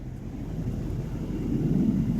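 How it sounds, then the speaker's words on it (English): Faint low exhaust rumble heard inside the cabin of a 2016 Mercedes-Benz S550 running with resonators deleted, a steady deep drone under road noise. "and a little bit of slight more exhaust rumble inside the cabin"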